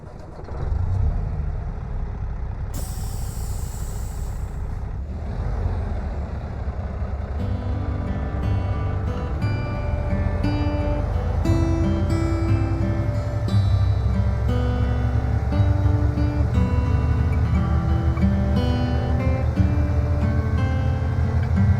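Kenworth W900 truck in American Truck Simulator, driving toward a winter event area. A deep engine drone runs continuously and builds in loudness, and a sharp air-brake-like hiss sounds early on.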